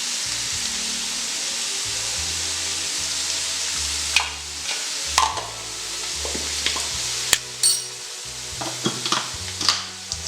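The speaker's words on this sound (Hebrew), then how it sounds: "אנחנו מטגנים הכל בתוך הסיר" Cumin and coarse black pepper fry in a pot with a steady, loud sizzle, broken by scattered sharp clicks and scrapes of stirring, with no voices.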